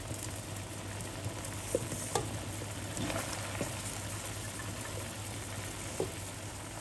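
Black sticky rice being stirred into simmering coconut milk with salt and sugar in a pot, giving a steady soft bubbling sizzle with faint scrapes and occasional light knocks, close and continuous with no talk.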